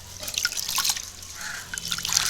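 Raw rice for sweet pongal is washed in water in a home kitchen, with drips and trickles splashing and sloshing unevenly, near and moderately loud, and no talking.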